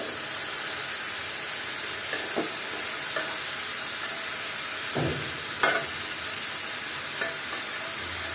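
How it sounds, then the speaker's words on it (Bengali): Bitter gourd and potato with spices fry in a pan under a steady sizzle, broken by several sharp scrapes and knocks of a spatula stirring the vegetables at irregular intervals. "উপর থেকে মিক্স করে দেব যাতে মশলাগুলো ভালো মতো চলে যায় সবজির সাথে"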